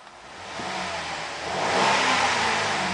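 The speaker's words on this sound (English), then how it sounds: "the reason I'm revving is just to show you that the car is running" A 2007 Saturn Outlook SUV engine revs up from a steady rumble, the roar swelling and holding loud, then easing slightly, with no talking.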